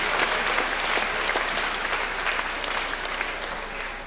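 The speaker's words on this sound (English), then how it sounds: "Give yourself a round of applause, folks." An audience at a rally bursts into steady, dense applause, a crowd clapping together close by and easing off slightly toward the end.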